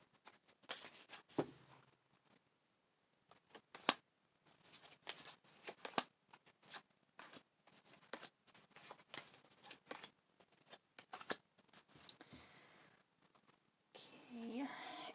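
Soft papery rustles and brisk riffling bursts of tarot cards being shuffled, close up and repeated in uneven spurts, with brief pauses between.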